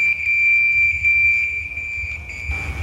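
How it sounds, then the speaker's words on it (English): A firefighter's personal motion alarm sounds a loud, steady high electronic tone with no breaks, running through the whole stretch over a low rumble of background noise. "this alarm will sound"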